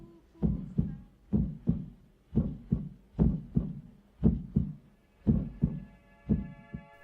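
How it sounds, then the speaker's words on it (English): Heartbeat sound effect: steady, deep double thumps repeating about once a second, close and muffled, with a faint tonal hum entering near the end. "they may remember the sound of their heartbeat."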